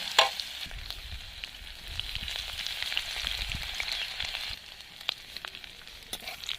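Whole cumin, a dried red chilli and a bay leaf crackle in hot oil as a tempering, giving a steady hiss dotted with small pops and clicks, close and fairly quiet.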